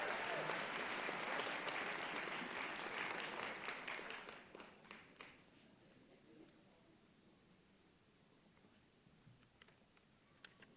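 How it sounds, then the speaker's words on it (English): Audience applause at a nursing college convocation, strong at first and then thinning into scattered, fading claps, fairly distant and soft. "Round of applause for them."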